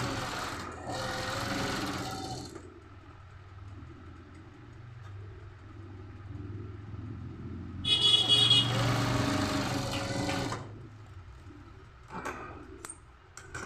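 A sewing machine stitches Chanderi cloth for a kurti in short, separate bursts of rapid mechanical whirring between quiet pauses, close by, with someone speaking faintly.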